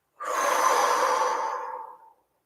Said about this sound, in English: we're going to breathe in 3 times through the mouth